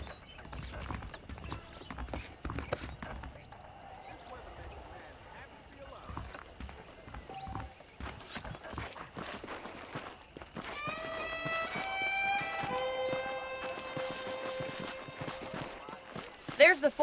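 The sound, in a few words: horse hooves clip-clopping in Red Dead Redemption, a video game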